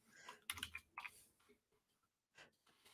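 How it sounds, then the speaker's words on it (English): Someone types on a computer keyboard nearby, with quick bursts of soft clicking keystrokes separated by short pauses in a quiet room. "Sorry, I'm typing at the same time"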